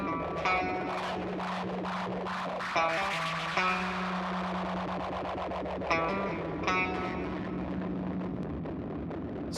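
Delay echo from a mixing plugin pushed through crunchy distortion, with gritty repeating tones and a sustained low drone, bursts returning every couple of seconds and trailing off in echoes.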